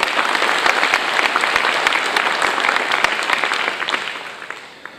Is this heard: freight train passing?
no